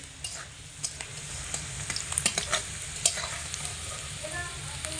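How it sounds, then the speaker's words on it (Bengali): Garlic cloves frying in oil over a medium flame, a steady close sizzle with scattered stirring clicks and scrapes of a utensil against the pan, no voices. "এই সময় কিন্তু আঁচটাকে মিডিয়াম আঁচে দিয়েই রসুনগুলো ভাজতে হবে"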